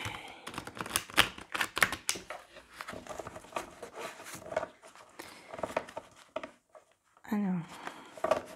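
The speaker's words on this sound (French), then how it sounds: "ça fait beaucoup de cartes. On va bien mélanger." A deck of tarot cards is shuffled in irregular bursts of quick, crisp riffling and tapping, fairly close and quiet, pausing briefly before someone speaks near the end.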